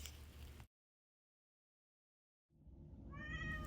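A house cat meows once near the end, after a stretch of silence, preceded by low indoor rumble and handling noise.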